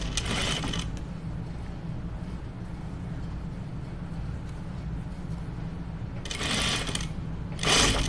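Sewing machine running a seam on a dress, a steady mechanical whir with brief louder bursts of faster stitching near the start and end, close and continuous, with no voices.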